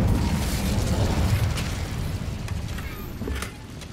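Incendio fire spell cast in Hogwarts Legacy, a loud, dense roaring burst of flame that stays full and sustained, easing slightly toward the end.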